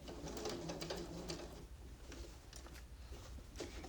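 A sewing machine stitching fabric for a bucket-shaped zip pouch runs with a soft, rapid mechanical patter, starting and stopping in short bursts at low volume.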